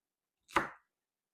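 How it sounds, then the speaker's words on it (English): A single short chop of a knife through celery on a cutting board, one brief crisp strike standing alone in quiet. "So what you're going to do is you're going to chop up about a 1/4 cup"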